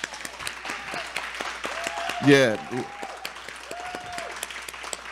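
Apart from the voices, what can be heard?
audience applauding for Kelly and Rob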